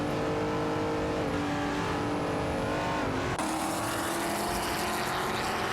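Race car engines roar in a racing video game, a Dodge Charger Super B71 among the field, steady loud droning with a sudden pitch shift midway as the engine note changes, with no one talking.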